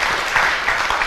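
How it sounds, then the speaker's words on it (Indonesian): Dense, steady clapping from a seated audience at a Buddhist-style talk, loud and close, a brief continuous wash of hands with no voices over it. "tepuk tangan dulu"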